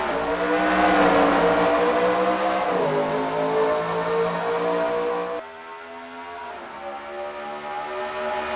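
Several race cars in a racing video game roar away from the start at Pikes Peak, a dense, loud wall of engine drone with pitches sliding as the cars shift and accelerate, no voices over it.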